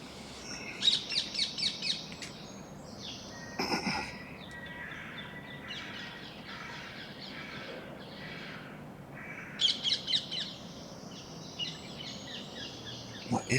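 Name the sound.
pigeons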